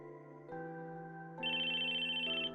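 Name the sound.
phone ringtone in a video game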